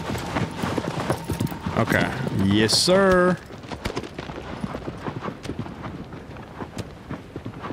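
Horse hooves clip-clop in a steady rhythm in the Shadow of the Colossus video game, with a brief whinny partway through, while someone talks briefly over them.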